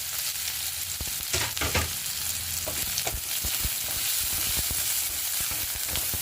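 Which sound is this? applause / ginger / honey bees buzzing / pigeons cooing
ginger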